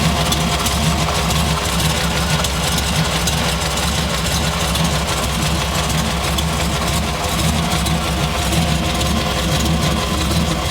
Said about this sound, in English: The MagnaFlow muffler sounds really good. It's got a nice deep throaty tone to it.